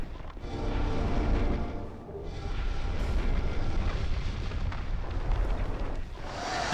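A loud, sustained explosion rumbles in the Dark Souls 2 video game, a dense roaring blast that fills the whole stretch and swells again near the end, with no talk.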